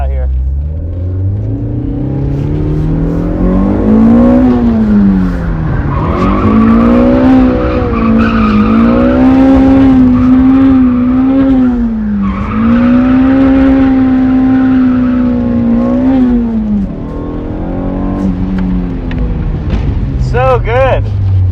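A mid-engine drift car's roughly 25-to-30-year-old motor screams at high revs through a long drift, the loud engine note rising and dipping with throttle alongside tire squeal, heard up close from inside the car.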